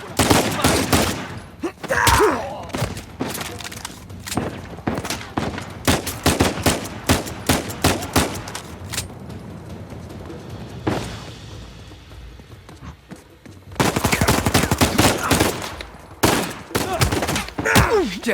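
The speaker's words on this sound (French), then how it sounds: "Il a une mitraillette lui." Bursts of machine gun fire and other gunshots in Uncharted 4 crackle in rapid volleys, loud and close, with a quieter lull midway before heavy firing resumes; a few voices can be heard between shots.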